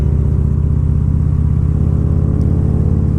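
Motorcycle engine runs close and loud with a deep, even, pulsing rumble that holds steady throughout and no voices.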